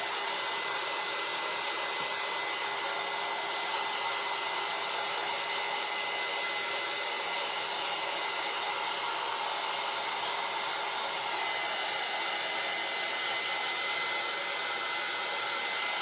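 A hair dryer blows steadily over a paint inlay to dry it, a loud continuous whooshing roar that holds unchanged throughout with no talking.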